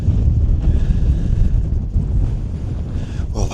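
Strong wind buffets the microphone on an exposed hilltop on Derwent Edge, a loud, continuous low roar with gusty surges throughout and no talk.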